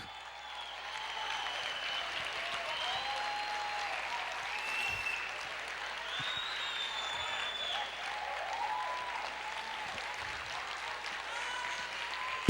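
A church congregation applauds steadily at a distance through a reverberant hall, and voices and singing are mixed into the sustained clapping.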